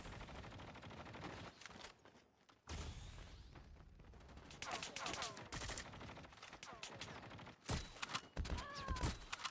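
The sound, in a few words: gunfire in the video game Call of Duty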